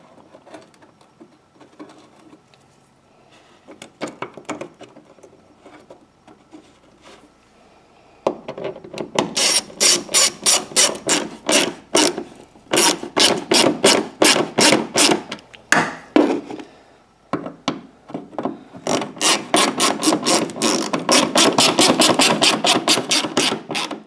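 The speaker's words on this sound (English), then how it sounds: "Look like I cut myself 1 new thread there." A custom vacuum canister being threaded into place, cutting a new thread as it turns: rhythmic bursts of scraping and rasping friction, sparse at first, then louder and faster in repeated grinding strokes.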